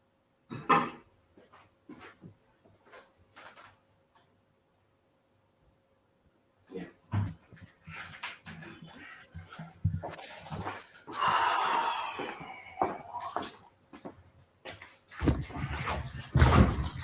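A dog snorts, wheezes and whimpers indoors in scattered short bursts, close and fairly quiet, with some sniffing breaths between bouts.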